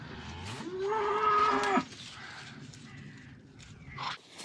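A single drawn-out moo from Hereford cattle inside a barn, fairly close and clear, followed by quieter stirring and a faint second call.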